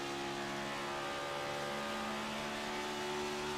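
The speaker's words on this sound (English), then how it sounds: "Shifting, but keeping those RPMs up." Stock race car engine from a racing video game, a Gen 7 Cup Series car at Nashville Superspeedway, roaring loud and steady at high RPM with a dense harmonic whine and no distinct break between gears.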